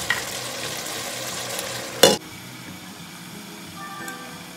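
Chicken bitter curry (Nepali tite) cooking in a pan and being stirred, a steady soft sizzle with scraping movements and one sharp clatter midway, no voices.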